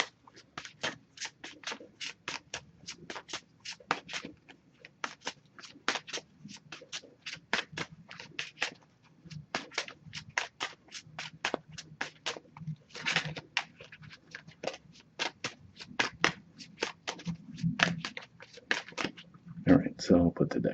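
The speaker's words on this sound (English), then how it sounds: "Just gonna give this a few shuffles" A deck of oracle cards is shuffled several times, producing quick bursts of crisp riffling clicks and soft slaps, close and fairly quiet, with short pauses between the shuffles.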